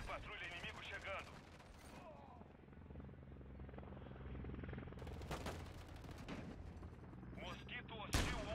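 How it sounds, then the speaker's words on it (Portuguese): Enemy patrol helicopter in Call of Duty Modern Warfare III, a steady low rotor drone running throughout amid game gunfire and bursts, with a voice briefly speaking over the battle noise. "Helicóptero de patrulha inimigo chegando."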